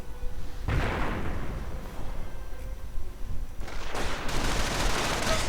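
Bursts of FD-42 light machine gun fire and mortar rounds in a World War II strategy video game, dense crackling volleys and rumbling impacts that swell, ease off briefly, then erupt again near the end.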